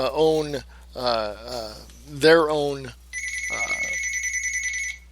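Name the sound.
telephone ringing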